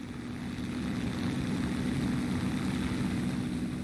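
A Messerschmitt Bf 109 K-4 fitted with gun pods drones steadily in a flight video game, its propeller engine a continuous low rumble that swells slightly and holds, alone without voices.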